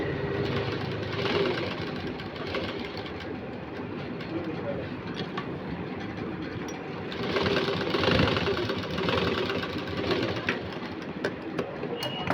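A sewing machine stitches a cutwork blouse with long-sleeve embroidery, its steady mechanical chatter running continuously at moderate level and swelling louder for a stretch midway.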